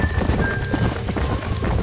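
Horses in the Red Dead Redemption video game, with hooves clip-clopping at a steady, close, busy rhythm for under two seconds, over a light wash of background ambience.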